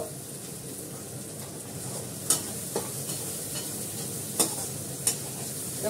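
Masala sautéing in plenty of oil in a pan, a steady low sizzle with occasional sharp scraping clicks of a spoon stirring, close and fairly quiet with no talk.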